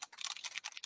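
Rapid clicking keystrokes rattle on a computer keyboard in quick irregular bursts, close and moderately quiet, with no voices.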